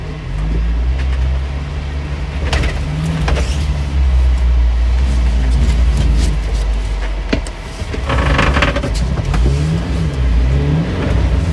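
A 1987 Suzuki Samurai with a 1.5-inch lift drives along, its small engine droning loud and close inside the cab with shifting revs and occasional rattles and bumps.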